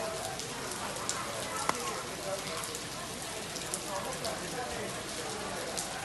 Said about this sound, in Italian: Adesso sto smettendo di piovere.